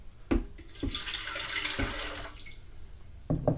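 Water, 12.2 ounces, poured into a bread machine pan for garlic knot dough, a steady broadband pour lasting about two seconds, bracketed by a few short knocks and clinks, close and moderately loud with no talking.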